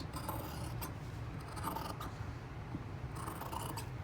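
Scissors snipping through a leather jacket during tailoring, faint soft crunching cuts in a few short strokes over quiet room noise.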